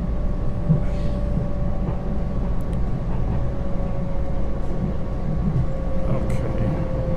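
Long Island Rail Road commuter train riding from Penn Station toward Jamaica on the Babylon line, heard from inside as a steady loud low rumble with a faint sustained whine, continuous throughout with no clear talk.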